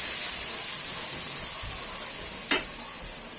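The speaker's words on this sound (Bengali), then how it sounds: "দিয়ে মশলাটাকে বেশ ভালো করে মিশিয়ে নেব।" Ground cumin and coriander, about a teaspoon each, are stirred into a hot frying pan for egg biryani, giving a steady, even sizzling hiss with a single sharp tap of the utensil near the end, and no speech.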